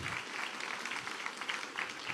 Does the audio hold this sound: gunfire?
no